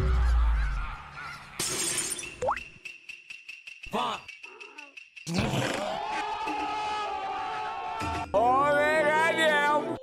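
Geese honking in a meme montage, loud nasal honks mixed with abrupt cuts, crashes, a sharp squeal and other edited sounds, with stretches of near silence between segments.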